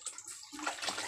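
Water is poured into a container holding a freshwater eel caught from a ricefield, making a brief, close rushing splash that swells after a moment.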